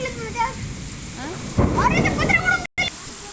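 A low rumble of thunder rolls under steady heavy rain, with a voice talking faintly in the background.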